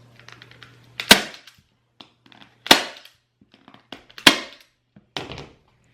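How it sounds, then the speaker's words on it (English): Staple gun fastening fabric onto a kitchen chair during upholstery, four sharp snapping shots about a second and a half apart, close and loud with small handling noises between. "And staple around it."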